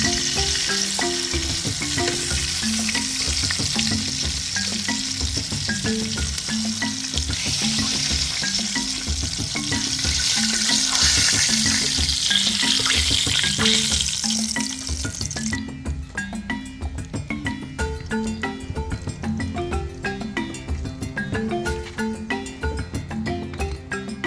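Tilapia fish frying in oil over a coal pot outdoors, a loud continuous sizzle and crackle with stirring and clinking, steady throughout and dropping somewhat in the last third.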